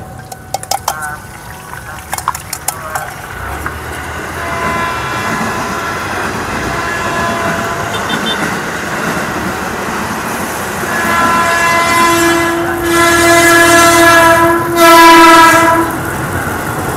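A train rumbles past with clattering wheels, and a loud horn blasts twice near the end, long and steady, over constant rail noise.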